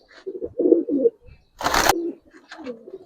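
A female racing pigeon coos in a few close, throaty bursts while being handled, broken by a sharp burst of feather flapping in the middle and softer coos after.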